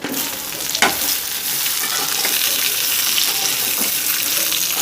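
Deseeded amla (Indian gooseberries) roasting with dal in a hot pan give off a steady, bright sizzle and crackle that holds close and fairly loud throughout, with no talking.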